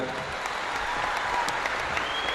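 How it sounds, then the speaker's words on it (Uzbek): A live audience claps in a steady, dense round of applause that continues evenly for the whole stretch, many hands together at moderate loudness. "Bahrom Nazar bir chiroyli qarsak chalib qo'ysanglar"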